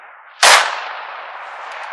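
A single black powder rifle shot at an outdoor field shoot cracks loudly up close, followed by a long, fading rumble that hangs in the air; no voices are heard.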